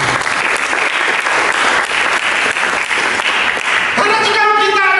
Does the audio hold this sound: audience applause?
yes